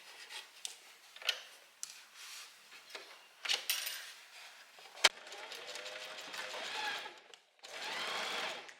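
A sewing machine stitches a seam allowance onto the back facing of a wrap dress in short, uneven bursts of whirring, broken by fabric rustling and a sharp click, with a longer run near the end.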